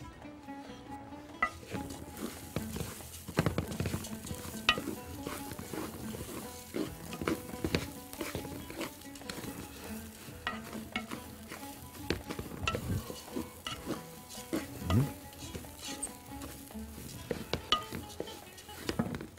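Rice being stirred in a pot, with repeated close scraping and clattering strokes, bubbling sizzle and dish clinks running throughout the stretch, a voice only faintly present.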